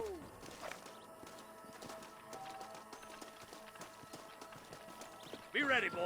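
Rhythmic clip-clop of horse hooves in Red Dead Redemption, under a busy game soundscape, with a horse snorting or whinnying briefly near the end.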